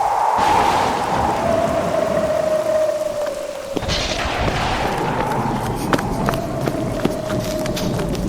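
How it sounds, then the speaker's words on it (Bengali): Heavy rain and storm effect in a Bengali horror audio story: a steady roaring downpour, loud and dense, with a low thunder-like thud, a sustained tonal whine and a few sharp knocks. "মুষলধারে বৃষ্টি নামল। সেই সঙ্গে ঝড়ের সে কি বেগ!"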